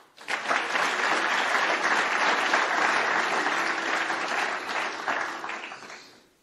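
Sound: audience applause in a hall

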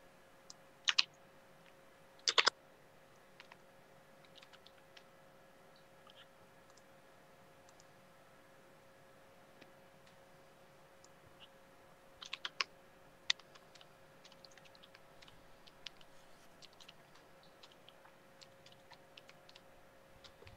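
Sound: typing on a computer keyboard

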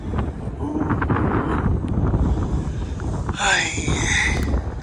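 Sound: wind blowing at Pearl Harbor warships

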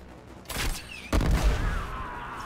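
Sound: gunfire aimed at the player in a video game

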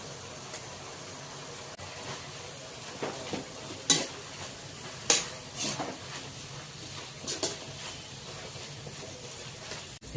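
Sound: garlic sizzling in tempering oil

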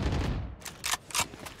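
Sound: gunshots in the video game Valorant

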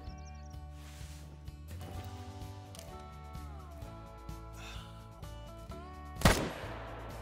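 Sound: M1 Garand rifle shot at a bull in video game Call of the Wild

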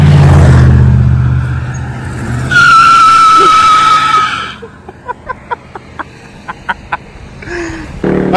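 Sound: cheap car doing a burnout, tires squealing

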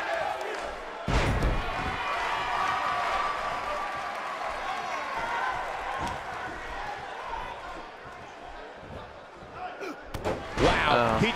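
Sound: wrestler body slam in WWE 2K18 video game

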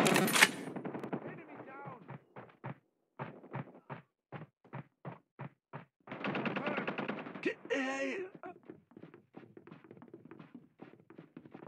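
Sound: gunfire in Call of Duty Mobile video game

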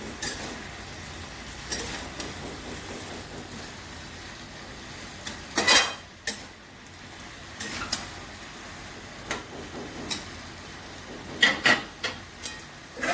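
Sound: mixing vegetables with green chillies in a pan

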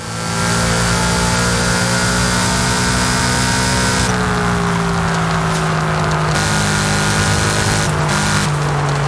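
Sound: Subaru S209 boxer engine revving, from video game Forza Horizon 5

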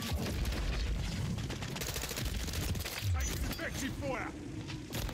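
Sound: M4 rifle gunfire in the video game Call of Duty Modern Warfare 3

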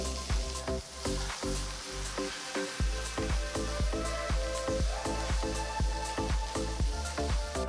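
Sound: onion, ginger and chillies sautéing in pan

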